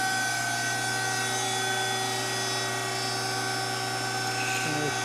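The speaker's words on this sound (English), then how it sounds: "And turn on the hydraulic." A hydraulic system, switched on in a grinder hood, runs with a steady loud whine and hum holding the same pitch throughout, and near the end a brief shift in tone breaks in.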